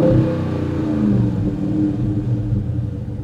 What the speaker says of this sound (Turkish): Sırada aracı bir gazlayalım.